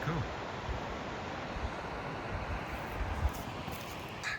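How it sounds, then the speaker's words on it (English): Waterfall on the Chattooga River, a steady broadband rush of falling water that holds evenly throughout, moderately close, with no voices. "coming down into the Chattooga River. It's up that waterfall right there."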